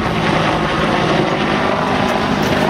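A Huey helicopter flies at the Portrush air show, its rotor and engine producing a loud, continuous, steady thudding roar close by.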